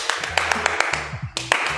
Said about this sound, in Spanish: Doy un aplauso